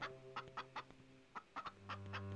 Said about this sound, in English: Starboard livestock room. Chickens, okay.